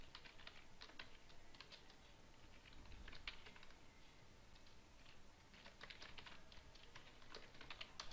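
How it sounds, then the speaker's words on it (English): Computer keyboard typing while laying out text for a simple poster design, a steady run of quick, fairly faint key clicks with irregular bursts and no voices. "And I am going to type some random text."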